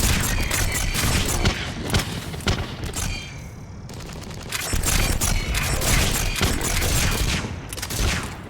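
Dense, sustained gunfire from the sci-fi shooter Mass Effect 3, rapid bursts and heavy reports packed together with barely a pause, loud and close throughout, briefly thinning for a moment before the barrage resumes.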